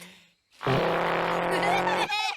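A wheeled cacophone, a made-up cartoon instrument from a fairy kingdom, lets out a loud, sustained, raspy, blatting drone like a rude brass blast. It lasts over a second, with a short warbling tail at the end.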